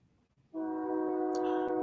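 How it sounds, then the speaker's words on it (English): A train horn sounds suddenly after a moment of quiet. It comes in as one loud, sustained, chord-like blast and holds for more than a second, with faint background noise underneath. "I hear a train coming."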